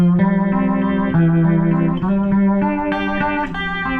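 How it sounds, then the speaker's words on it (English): A sustained guitar chord swirling with a fast rotary-speaker warble, the tone pulsing and shimmering as notes shift, loud and continuous. "if you turn up the speed, you can get a nice Leslie out of it"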